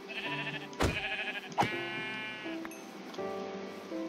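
Several Minecraft sheep bleats, nasal and wavering, spaced across a few seconds over a soft background with occasional thumps.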